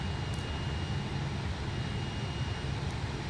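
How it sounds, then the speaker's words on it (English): Steady broadband roar of the JustFlight F-28's jet engines in a flight simulator game as thrust builds, a continuous close hum with no break or talk across the short span. "Let's get this airplane accelerating"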